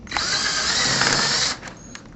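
A power drill pre-drills a hinge for direct-mount shutters, a steady high whir for about one and a half seconds that then winds down, followed by brief faint clicks.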